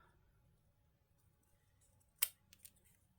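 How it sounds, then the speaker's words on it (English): Scissors cutting paper pieces individually, a quiet room with a sharp snip followed by a couple of fainter snips close by. "cut them individually"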